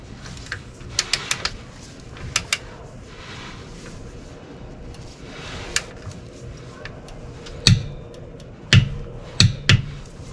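Torque wrench set to 76 pounds clicking during a brake pad job on a 2008 Toyota RAV4, sounding as faint, sharp clicks in small clusters against quiet garage background.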